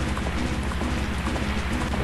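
Horse galloping in the video game Zelda: Majora's Mask, a steady rapid clip-clop of hooves looping evenly throughout, loud and close, with a brief whinny-like tone.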